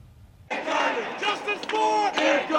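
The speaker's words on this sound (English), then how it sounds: "Angry crowds tonight in the streets of New York, protesting yet another controversial grand jury decision" An angry protest crowd fills a New York street at night, many voices shouting and chanting together, loud and continuous after a brief quiet start, with rising and falling yells.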